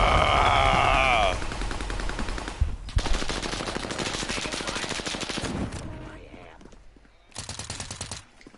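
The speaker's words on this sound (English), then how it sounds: "I'm taking fire." Rapid automatic gunfire in Call of Duty Warzone on Rebirth Island, loud sustained bursts that cut off, then resume after a short pause.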